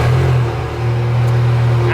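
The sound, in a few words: VW GTI big turbo engine revving through custom DRUWERKS exhaust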